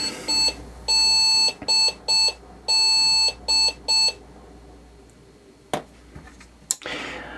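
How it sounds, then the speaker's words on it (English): Repeated high electronic beeps from a computer motherboard signalling missing memory, in short bursts, a few long and several short, followed by quiet hum and a couple of clicks. "Processor is cold and it's beeping as memory is absent."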